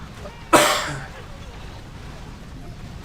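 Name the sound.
cough picked up by headset microphone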